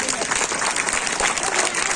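A crowd claps loudly at an Arya Samaj gathering, a brief, dense burst of applause filling the space.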